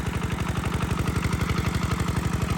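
Brief, close burst of an Emi 8.5 185 engine driving a 4-inch irrigation pump, its rapid pulsing exhaust beat steady and prominent with a slight clattery edge and no voices.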